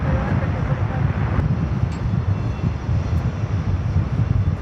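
Virgin airliner at JFK airport, a steady broadband jet roar with a strong low rumble, loud and continuous throughout with wind noise.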